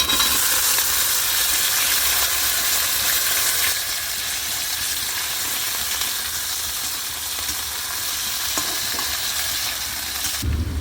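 Potatoes dropped into a pan of frying onions and chili for a Nepali mushroom dish, a steady loud sizzle that drops slightly partway through, with occasional stirring scrapes and no talking.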